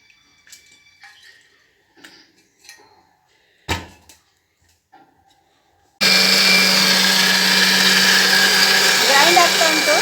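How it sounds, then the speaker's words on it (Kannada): A kitchen mixer grinder starts up and runs at full, loud and steady, grinding masala for Mangalore-style Bangude fish pulimunchi, after a few seconds of quiet clinks and handling sounds as the jar is set up. "ನೋಡಿ ಮಿಕ್ಸಿಗೆ ಹಾಕ್ತಾಯಿದ್ದೀನಿ"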